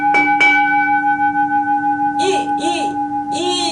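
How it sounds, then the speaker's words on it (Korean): A bell is struck twice in quick succession and leaves a long, pure, sustained ringing tone that fades slowly, with a voice speaking over the lingering hum. "이 종소리도 아니고,"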